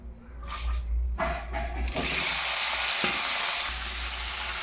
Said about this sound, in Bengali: ফুলকপিগুলো এখানে ভাজা হচ্ছে